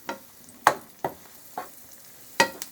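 A pan of sizzling mushrooms being stirred for a homemade tuna noodle casserole, with faint frying hiss and several distinct scraping knocks of the utensil against the pan, close and unaccompanied by talk.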